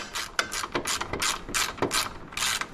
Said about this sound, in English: I'm tightening the ground now for the voltage regulator